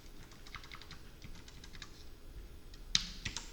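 A series of light, fairly quiet clicks from a computer keyboard as keys are pressed, with one sharper, more distinct keystroke near the end standing out against a faint background hum.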